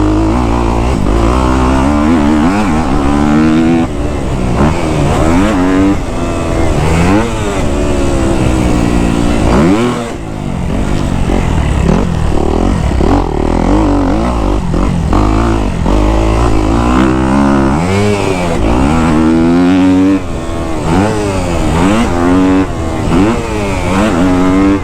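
A Kawasaki KX250F dirt bike ridden over jumps at the end of the day, its engine revving and surging in repeated rising and falling bursts, loud and close throughout, with a brief dip around the midpoint before climbing again.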